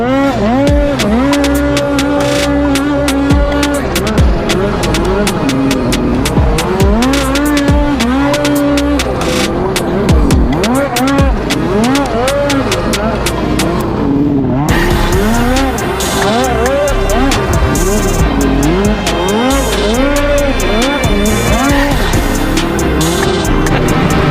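A Polaris snowmobile racing a hill climb under the lights at Kelley Canyon pulls a wheelie, its engine wailing loud and steady throughout with rising and falling pitch sweeps, a brief dip midway before the revving roars back.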